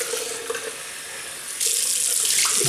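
Tap water runs into a sink to rinse a 1940s Gillette Ranger Tech double-edge safety razor, a close, steady splashing stream that grows noticeably louder and brighter partway through.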